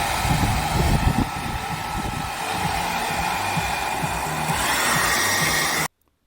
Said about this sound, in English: I steal my partner's hairdryer.